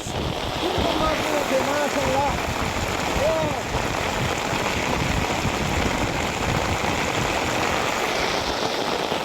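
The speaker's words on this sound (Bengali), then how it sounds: "প্রচুর বৃষ্টি নামতাস" Heavy rain pours steadily in a dense hiss, with a few faint calls or voices in the first few seconds.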